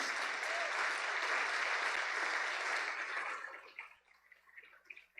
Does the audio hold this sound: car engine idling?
no